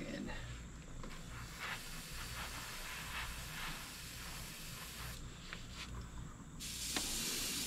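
An airbrush driven by a compressor spraying white opaque base paint, giving a steady faint hiss with brief pauses and bursts, while a person talks quietly.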